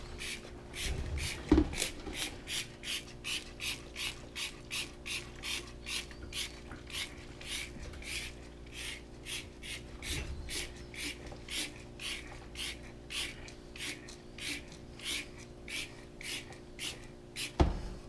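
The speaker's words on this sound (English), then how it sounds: "I'm gonna scrub it as much as I can" Brisk, repeated scrubbing strokes of a brush on a stained stove in a steady back-and-forth rhythm, close by, with an occasional louder knock.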